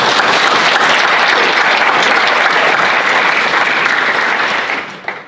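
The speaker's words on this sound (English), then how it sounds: "I think you deserve an applause." Dense audience applause at a tree-planting summit fills the room, steady and loud throughout before tapering off at the very end.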